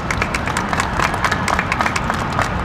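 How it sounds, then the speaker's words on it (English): Audience applause at an outdoor park ribbon cutting, a dense, loud wash of many hands clapping continuously with scattered cheers and crowd voices mixed in. "Let's give her a round of applause."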